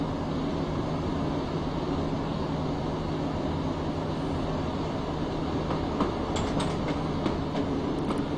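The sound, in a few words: Class 117 train running in Train Simulator 2016 video game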